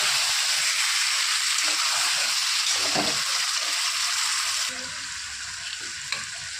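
Ginger, onion, garlic and tomato paste sauté in a pan for a fish curry, a steady loud sizzle with a few soft stirring scrapes, dropping slightly quieter near the end.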